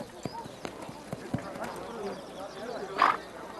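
A young stallion's hooves clop in a few distinct, irregular strikes, followed by a short whinny near the end, with a voice talking over the sounds.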